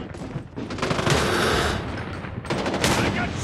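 Rapid automatic gunfire from a Call of Duty match rattles in dense bursts across the whole stretch, with a brief lull partway through before the shooting picks up again, loud and close.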